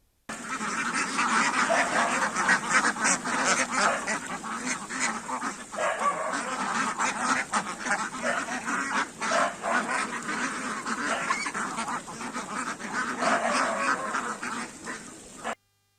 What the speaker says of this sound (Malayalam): വള്ളുവനാടൻ പാടങ്ങളിൽ തീറ്റ തേടി താറാവിൻ കൂട്ടങ്ങളെത്തി